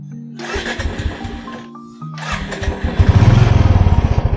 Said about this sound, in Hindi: वाह, बाइक स्टार्ट हो गई।